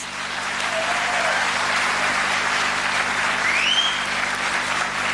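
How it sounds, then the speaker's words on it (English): An audience at a school cultural festival applauds after a student performance, sustained even clapping at moderate level, with a faint whistle-like tone gliding through partway. "Let's give them a thunderous applause."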